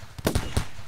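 Gunfire in the RimWorld video game: three or four sharp game shots crack in quick succession, close and punchy, then fade into quiet.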